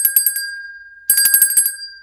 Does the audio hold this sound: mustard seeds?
no